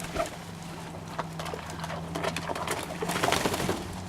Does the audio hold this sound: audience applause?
no